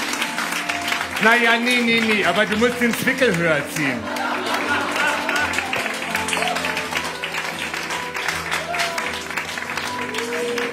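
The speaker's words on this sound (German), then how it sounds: "Applaus für die Technik," Studio audience at a German live stage show applauds the technical crew, a dense steady wash of clapping and crowd noise lasting throughout, with people talking loudly over it.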